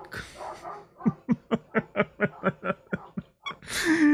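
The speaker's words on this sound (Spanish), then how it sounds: "Ojalá poder silenciar a los putos perros" Dogs bark in a rapid run of about a dozen regular, evenly spaced barks, moderately close, with a louder, higher bark or yelp breaking in at the end.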